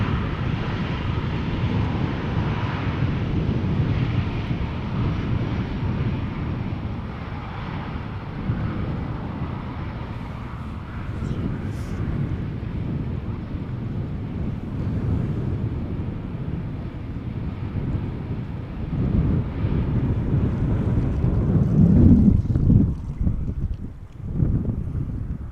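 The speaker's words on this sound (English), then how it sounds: "It is a Bombardier C Series 300" A Bombardier C Series 300 airliner at Schiphol Airport rumbles as a broad, steady roar with wind buffeting the microphone, swelling louder toward the end with no voices.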